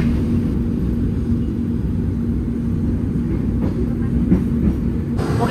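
The Menoreh train rumbles steadily into Bekasi station in Indonesia with low droning noise and faint clanks, a constant heavy rolling sound as rail cars move close by.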